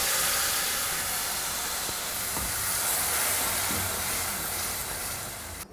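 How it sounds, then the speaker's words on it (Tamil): Ground tomato paste for tomato chutney hits a hot pan, giving a steady, loud broadband sizzle and hiss that holds for several seconds with no talking. "உள்ளே இந்த அரைச்ச தக்காளி விழுத சேர்த்துடலாம்"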